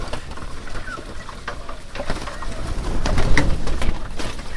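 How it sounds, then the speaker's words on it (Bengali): Several pigeons coo steadily nearby, layered with light scuffling and pecking sounds as the birds crowd together. "কবুতরগুলোকে খাবার দিতে আসে দেখেন"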